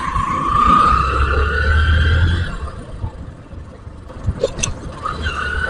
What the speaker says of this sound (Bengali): এখন 60, 70-তে গাড়ি চলছে